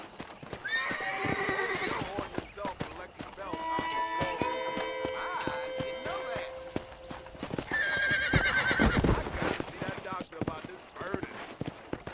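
Horses whinny loudly several times over a steady clip-clop of hooves, with a rhythmic galloping patter underneath and occasional rustling, in the video game Red Dead Redemption.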